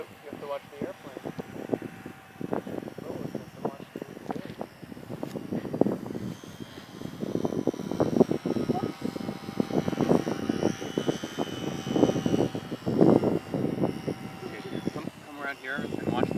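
An RC model airplane flies overhead, its propeller engine droning steadily throughout at moderate distance while people talk over it.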